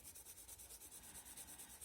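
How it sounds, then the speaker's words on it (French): Felt-tip fineliner pens scratch across paper in a quiet room, a soft steady rubbing with a faint repeating stroke rhythm, very low in level and with no voices. "le bruit que ça fait, les Broadfiners sur le papier"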